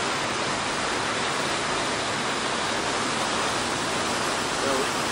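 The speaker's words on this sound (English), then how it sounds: "we can't see all of the water as it is rushing along" Water rushing along a river in Maine, a dense, constant broadband roar that stays loud and even from start to finish, with no voices over it.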